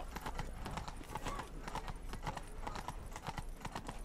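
Steady, rhythmic clip-clop of a horse's hooves in The Witcher 3: Blood and Wine, close and continuous with no talk over it.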